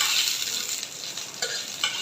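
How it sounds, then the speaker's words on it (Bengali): Dried chillies fry in hot mustard oil with a steady bright sizzle, punctuated by a few scraping stirs of a spoon, close and alone. "শুকনো মরিচগুলো ভালো করে ভেজে নেব"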